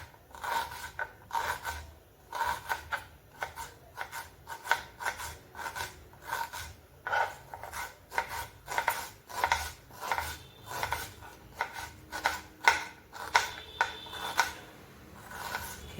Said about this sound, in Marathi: कांदा 2 कांदे घेतलेत, हे चांगले बारीक असे चिरून घ्यायचे.